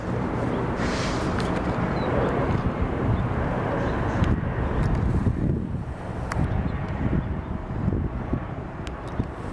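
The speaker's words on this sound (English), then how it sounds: "That is an ERJ 175, and that will be coming from Spokane." An Embraer ERJ 175 regional jet arriving from Spokane at Seattle, a broad steady roar of engine and wind noise that holds throughout, loud and close with gusty microphone buffeting.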